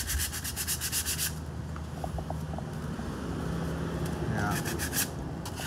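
The back of a resin coaster being hand-sanded with 80 grit sandpaper, giving rapid rhythmic scratchy rubbing strokes up close, in bursts at the start and end with quieter rubbing between.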